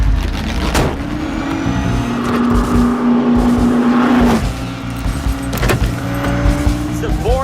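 A Ford race car engine runs loud and steady, holding a sustained drone that swells and shifts pitch as it revs, with brief bursts of talk over it.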